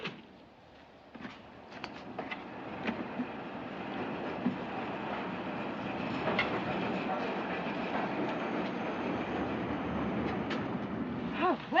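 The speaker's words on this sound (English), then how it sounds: "The train for Ketchworth is now arriving at platform 3." A train pulling into a station platform in a 1940s British setting, a continuous rumbling roll with rhythmic clattering and rising mechanical noise over nearly twelve seconds, no talking.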